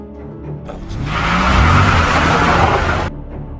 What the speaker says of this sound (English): Mateo surprises his partner and leaves with his car.